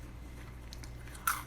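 A bite into crunchy homemade praline crunch candy, heard up close as a few soft crisp crackles followed by one sharp crunch near the end, with no talking.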